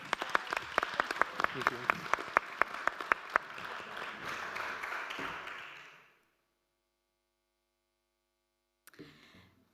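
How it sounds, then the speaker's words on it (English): Applause at the close of a medicine and technology panel discussion starts with a few sharp, separate claps, swells into a brief round, then fades to silence before someone briefly speaks. "Can I please get another round of applause"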